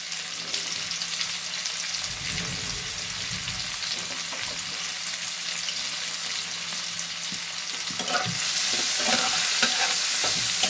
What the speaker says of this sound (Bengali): উচ্ছেটাকে ভালো করে ভেজে নেব